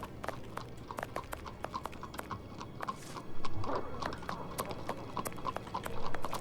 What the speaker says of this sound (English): I don't like the fact I can hear horses clippity-cloppeting so close to me and there are no horsemans.